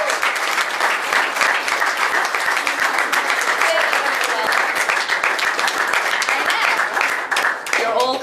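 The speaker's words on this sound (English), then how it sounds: "You're all correct in clapping." Loud, sustained applause from a crowd at a TDOR 2011 gathering in Canberra, thick continuous clapping that fills the whole stretch with a slight dip near the end.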